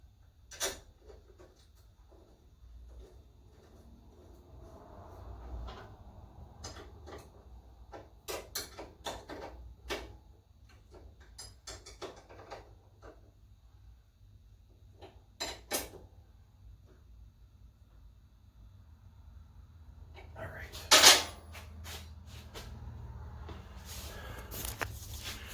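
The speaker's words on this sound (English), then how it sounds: "Put the pinch bolt back in for the shifter." A pinch bolt is fitted back onto the shifter linkage of a Harley Dyna motorcycle, with sparse close metallic clicks, taps and ratcheting tool sounds spread over quiet gaps, and a louder clatter near the end.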